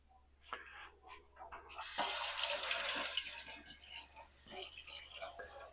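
Tap water runs from a kitchen faucet into a bowl being rinsed out while cooking Southern creamed squash and roast gravy, a steady broadband splashing rush that swells in the middle and tapers, with faint clatter around it.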